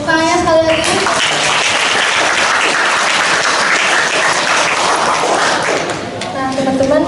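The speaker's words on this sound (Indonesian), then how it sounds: "Tepuk tangannya sekali lagi." A school audience at a podcast-style stadium general event bursts into sustained applause, loud dense clapping with cheers, framed by a speaker's voice at the start and end.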